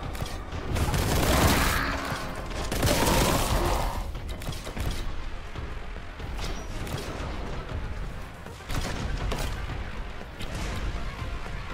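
Grenade blasts in the first-person shooter Warhammer 40K: Boltgun land as heavy, crunching booms layered with mechanical clatter and whooshes, the loudest bursts coming early and dense combat noise continuing throughout.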